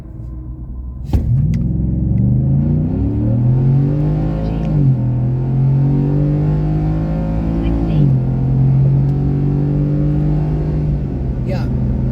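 A 2023 Ford F-150 FX4 pickup with a 5-liter V8 accelerates hard from 0 to 60, its loud, close engine roar climbing in pitch and dropping at two gear shifts.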